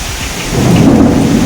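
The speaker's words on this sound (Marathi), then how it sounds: "अरे बापरे वीज पण कडाडली" Heavy monsoon rain pours down steadily as a deep roll of thunder from a lightning strike swells in partway through, rumbling loudly over the downpour.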